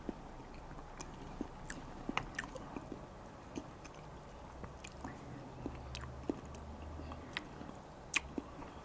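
Someone chewing a bite of rich Manchego cheese on its own, without a cracker: faint, close, moist squishing and small crunchy clicks scattered irregularly over quiet background.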